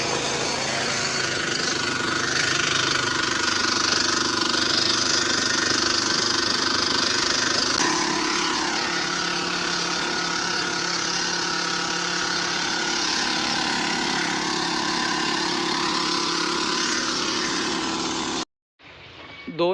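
A farm machine's engine runs steadily in a field while grass beds are cut for goat fodder. It makes a loud, continuous mid-pitched drone that stays even for most of the stretch and then cuts off abruptly near the end.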